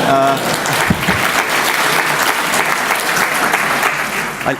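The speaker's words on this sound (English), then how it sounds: "I love it when I get applause for the technology working." Conference audience at a travel convention breaks into sustained applause, a dense, loud wash of many hands clapping throughout, starting just after a spoken line.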